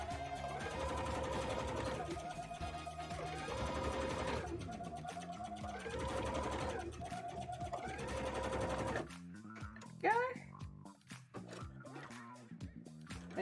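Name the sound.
sewing machine stitching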